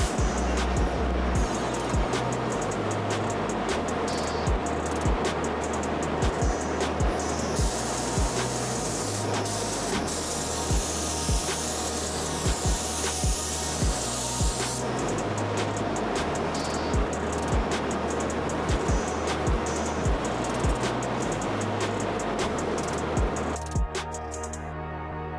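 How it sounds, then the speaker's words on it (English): Spray gun with a fine performance head laying candy paint onto a test card, a steady loud hiss running continuously across the whole stretch with brief pauses in the flow. "this here performance gun with the finer head really performs well on keeping low overspray. So we're gonna go ahead now, we'll spray our card"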